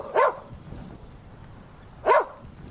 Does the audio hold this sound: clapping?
no